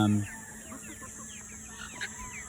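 Young chickens under three months old cluck softly in the background with scattered short calls, over a steady hiss and a faint low hum.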